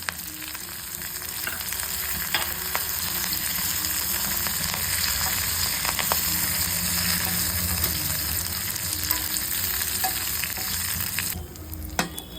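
A tempering of mustard seeds, fenugreek, cumin, curry leaves and dried red chillies sizzles in hot oil for pesara pappu charu, a steady close crackle with occasional sharp pops, alone without voices.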